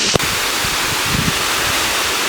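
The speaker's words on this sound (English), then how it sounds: "And we made it to the waterfall." A waterfall gives a steady, close, full roar that fills the clip, with one brief knock near the start.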